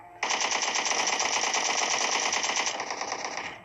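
An automatic weapon in a battle royale video game fires a rapid, unbroken burst of pre-fire at a target. The shots are loud and close, last about three and a half seconds, and no voice is heard.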